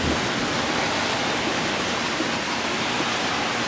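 Dense, steady hiss of heavy evening rain pouring down continuously, loud and even with no pauses or voices.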